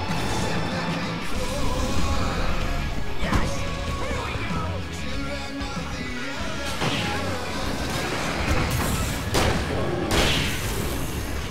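Heavy crashes and booms from a grenade explosion in the video game Alan Wake, set in a dense, loud, continuous game soundscape with several sharp impacts near the end.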